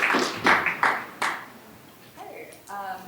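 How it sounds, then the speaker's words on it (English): Clapping from a symposium audience welcoming a panel of speakers, a handful of distinct claps in the first second and a half, then fading into quieter room sound and a voice beginning to speak. "Let's give them a big round of applause."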